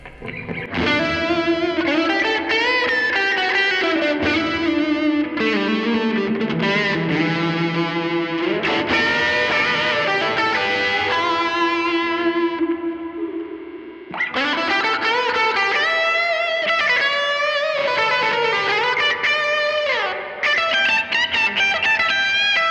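Electric guitar plays through a Line 6 Helix multi-effects unit with reverb, loud and continuous chords and notes with a long wash of tail, one brief drop near the middle before it resumes.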